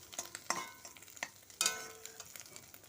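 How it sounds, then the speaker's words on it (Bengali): Egg and onion frying in a pan, with a steady soft sizzle broken by a few sharp scraping stirs of a spatula, close and moderately quiet, no talk. "দেখো ডিমটা ভাজা হয়ে গেছে"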